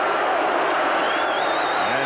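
Dense roar of a large football stadium crowd at a 1988 Indiana vs Ohio State Big Ten game, loud and continuous throughout, with a faint whistle-like tone rising near the end.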